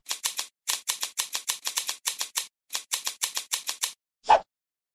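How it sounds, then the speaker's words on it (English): Cutting along lines while making a baby toy in Baby Twins - Newborn Care: crisp, rapid snipping ticks in quick runs with brief gaps, ending in a single heavier click. "First, cut along the lines."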